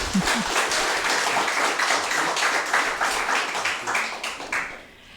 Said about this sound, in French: qu'on peut applaudir bien fort pour le féliciter